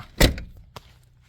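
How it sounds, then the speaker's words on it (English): A 1990 Dodge Grand Caravan LE door shuts with a single solid thud, followed a moment later by a fainter knock as it settles, then quiet. "Shut that door."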